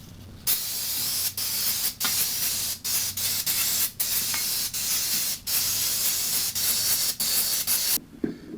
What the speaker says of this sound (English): Get a bit of brake clean around there.